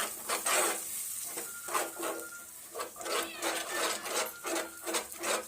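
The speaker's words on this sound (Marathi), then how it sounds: "जोपर्यंत दही तेल सोडत नाही तोपर्यंत आपल्याला ह्याला सतत हलवत राहायचं आहे" A spoon scraping and stirring a yogurt and oil mixture in a cooking pan, with steady rhythmic rasping strokes repeating close up and unbroken by talk.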